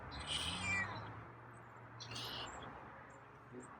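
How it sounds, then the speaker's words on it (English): A soft, quiet cat meow, faint and brief, over low background noise, followed by a few faint high chirpy sounds. "Meows are quieter."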